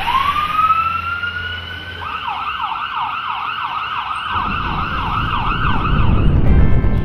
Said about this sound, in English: the lights and sirens wailed into the rainy night